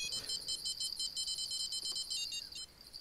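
Electronic fishing bite alarm in the Fishing Planet video game, during a Christmas mission hunting payara: a series of high, rapid beeps repeating steadily for about three seconds, clear and alone with no talking.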